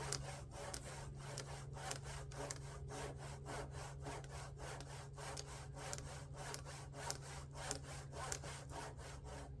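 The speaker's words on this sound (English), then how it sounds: "Now this is more of a trim saw, so the teeth are thinner, or shallower" A hand trim saw with thin, shallow teeth cuts through a log outdoors in the woods, a steady fast back-and-forth rasping rhythm of strokes, close and continuous, with a low hum beneath and no talking.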